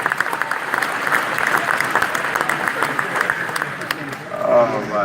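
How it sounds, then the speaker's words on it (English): A crowd at a politician's rally in Nanaimo applauds steadily, a dense wash of clapping that holds throughout, with a voice briefly rising near the end. "Let's give them a round of applause."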